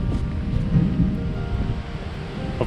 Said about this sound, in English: And thunder is coming this way.